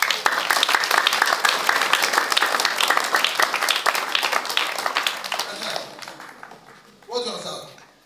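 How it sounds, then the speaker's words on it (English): A church congregation claps for Jesus, a loud dense burst of applause that holds steady and then fades out, followed by a short voice. "Can we clap for Jesus?"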